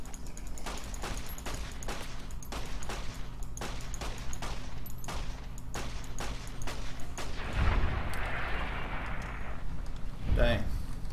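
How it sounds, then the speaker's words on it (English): Rapid submachine gun fire in Fallout: New Vegas, loud sustained bursts of closely spaced shots for several seconds, then a heavier rumbling blast and a sharp crack near the end. "Let's try out this submachine gun."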